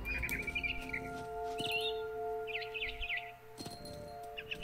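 A barn swallow chirps in the video game What Remains of Edith Finch, with short bright tweets in scattered clusters over a quiet ambient background.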